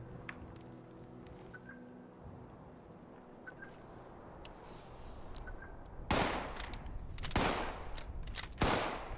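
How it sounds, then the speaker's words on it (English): Gunfire in Fallout 76, a few faint distant shots at first, then several loud close bursts near the end. "I was like, who just started shooting?"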